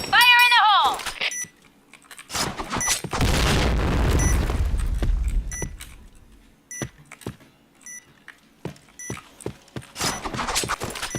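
A grenade explodes in a bomb-defusal shooter game with a heavy, rumbling boom that fades over a few seconds. Electronic beeps, sharp clicks and game voices come before and after it.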